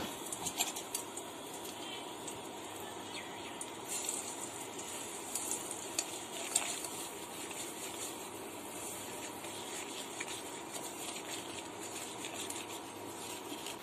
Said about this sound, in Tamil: இப்போ இந்த ரவையை போட்டு வறுத்துக்கலாம்.